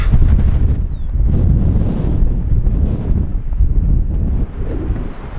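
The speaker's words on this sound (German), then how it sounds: "Aber der Wind ist auch mindestens genauso schlimm. Also heute ist er echt heftig." Strong, gusty wind blows hard along the coast of the Valdés Peninsula in Argentina, buffeting the microphone with loud low rumbling roar throughout and no talk.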